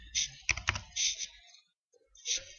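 Typing on a computer keyboard while playing Minecraft, bursts of close, quick key clicks separated by brief pauses.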